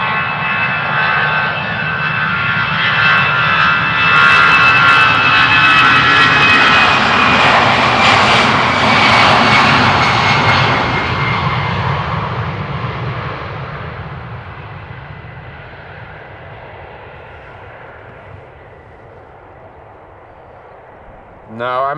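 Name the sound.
Airbus A319 jet departing Amsterdam Schiphol for London Gatwick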